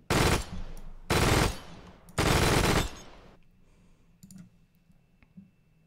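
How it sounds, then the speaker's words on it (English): Three long, loud bursts of rapid MG42 machine-gun fire in the video game Arma 3, each lasting about a second with short gaps between them, followed by quieter ambient clicks and rumble. "Gosh, this MG42 is amazing."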